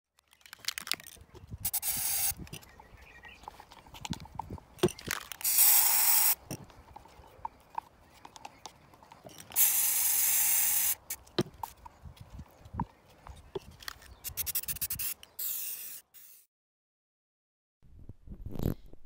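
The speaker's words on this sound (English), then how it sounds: "getting ready to apply the spray paint" Bursts of hissing spray from a mirror-effect spray paint can come in short and longer blasts, separated by quiet gaps and clicks, close by and fairly soft.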